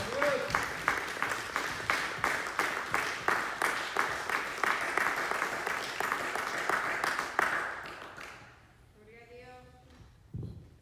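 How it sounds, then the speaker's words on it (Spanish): Congregation applauding during a Sunday church service, rhythmic unison clapping in steady beats for several seconds, then fading out as a voice speaks briefly afterward. "Denle fuerte ese aplauso al Señor."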